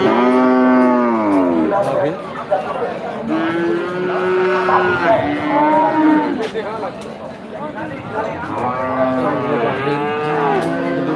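Several cattle moo one after another at a crowded Bangladeshi cattle market, long drawn-out calls near and loud, repeating with short gaps against a steady background of voices and bustle.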